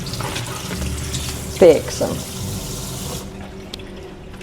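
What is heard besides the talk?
water running while rinsing soaked potatoes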